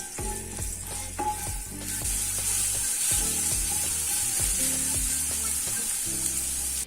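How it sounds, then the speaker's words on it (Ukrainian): Steady sizzling of chopped garlic frying in hot oil in a pan over low heat, a constant hiss with occasional clinks and scrapes on top. "Додаємо подрібнений часник та смажимо 2 хвилини на повільному вогні"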